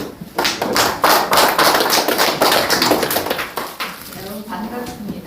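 Audience at a Korean strategy forum breaking into applause, a dense, loud burst of many hands clapping close by that gradually thins and softens toward the end.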